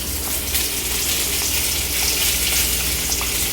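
Food sizzles and fries steadily in a pan with ghee while being stirred, a continuous close hiss with faint scraping, no talking.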